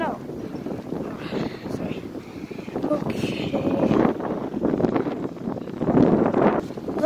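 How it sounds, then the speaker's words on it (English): Strong wind buffets the microphone in steady, rough gusts that swell louder toward the end, with a person talking over it. "it's getting really windy too"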